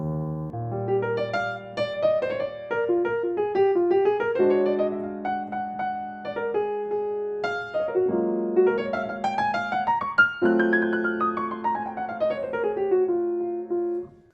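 Solo jazz piano plays a free-rhythm, rubato line over the chords of a jazz standard, with rich extended harmonies and rolling melodic runs that rise and fall across about fourteen seconds, close and clear with no talking.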